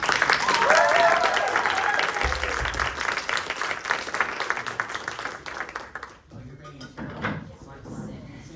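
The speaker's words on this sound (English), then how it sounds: "let's give one more round of applause for our amazing director, Savannah Johnson." A theatre audience applauds for their director after a show, the dense clapping strong at first, then thinning and fading out after about six seconds, with a few scattered claps and light room noise at the end.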